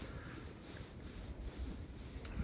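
Low, blustery wind over water buffets the microphone in a steady rumble, faint and continuous, with no voices.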